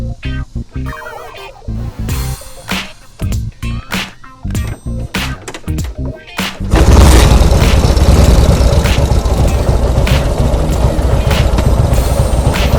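A 1948 Harley-Davidson WL motorcycle engine kicks over and settles into a loud, steady running roar at close range, preceded by a few seconds of intermittent mechanical clatter and knocks.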